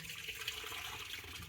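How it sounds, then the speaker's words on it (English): Gazpacho soup pours through a mesh strainer into a pan below, a soft continuous watery trickle and splash, close and fairly quiet, steady from start to end with no speech. "Obviously, I'm inserting it on top of another pan and pouring the soup"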